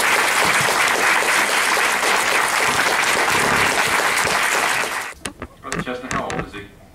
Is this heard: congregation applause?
yes